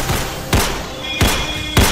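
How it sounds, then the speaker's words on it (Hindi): Gunshots ring out during a police encounter with armed men on motorbikes in Bihar, three sharp loud reports spaced about two-thirds of a second apart over a quiet background. "2 बाइक पर सवार 6 बदमाशों ने पुलिस को देखते ही गोली चलाना शुरू कर दिया"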